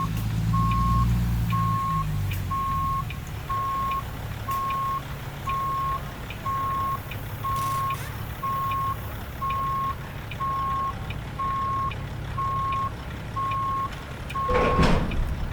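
A truck's reversing beeper in American Truck Simulator sounds a steady, evenly spaced series of about fifteen beeps over a low engine rumble, ending with a brief hiss near the end.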